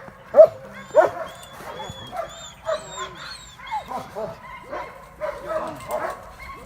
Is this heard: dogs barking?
yes